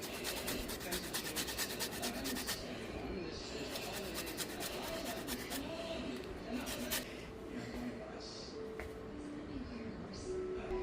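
A lemon is zested for a strawberry lemonade cake, giving steady, close rasping and scraping strokes that run continuously.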